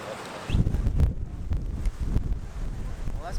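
Strong gusting wind buffets the microphone during a muddy mountain bike race, a steady low rumble with louder surges and faint flapping, carrying on throughout without clear voices.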